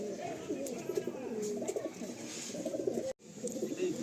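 Several Nazra Kaldom long-size pigeons, a male and female pair among them, coo in repeated soft low warbles close by, with a brief dropout just past three seconds before the cooing resumes.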